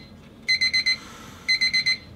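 An alarm clock rings at 4 a.m. in two close, loud bursts of four quick electronic beeps each, separated by a short pause, in a quiet room at night.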